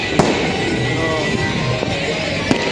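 Firecrackers go off during an Uttarayan evening in Surat, a few sharp distant bangs standing out over a constant busy outdoor din.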